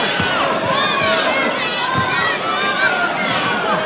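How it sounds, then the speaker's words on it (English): An excited crowd at a pro wrestling steel cage match roars continuously and loudly, with shrill shouts and screams layered over the dense cheering and some voices close by. "this crowd has come unglued"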